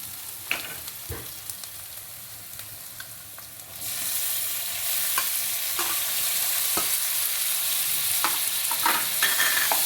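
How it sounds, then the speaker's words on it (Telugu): Tomatoes go into a frying dried prawn curry and get stirred, with scattered spoon scrapes at first, then a louder, steady sizzle taking over as the stirring continues close by. "ఇది కొంచెం బాగా కలుపుకున్న తర్వాత ఇప్పుడు మనము టమాటా వేసుకోవాలి."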